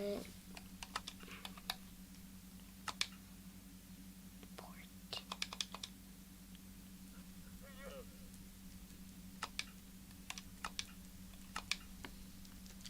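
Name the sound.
typing on a computer keyboard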